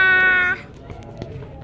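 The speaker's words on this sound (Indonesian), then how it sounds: "yang mengeong-ngeong minta kelapanya" A single drawn-out cat meow, loud and close, lasting about half a second, then fading into quiet background noise.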